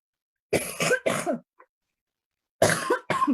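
A person coughs a few times in two clusters, close and fairly loud, with silence between the bursts.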